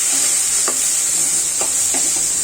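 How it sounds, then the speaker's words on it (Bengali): Dried ribbonfish curry with turmeric and cinnamon sizzles loudly and steadily in a pan, with a few distinct stirring scrapes spaced across the short stretch; no voices. "নাড়াচাড়া করে নিব হলুদ আর দারচিনি"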